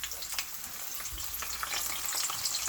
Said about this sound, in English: And now I'm going to introduce my sliced onion.